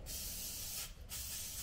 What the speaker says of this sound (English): Want me to spray your hands?